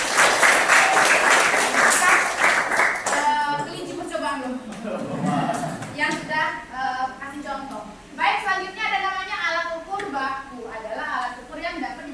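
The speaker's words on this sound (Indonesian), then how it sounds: "Tepuk tangan dong buat 2 orang." Classroom applause for two pupils, a dense burst of clapping for about three seconds that cuts off as a teacher starts talking.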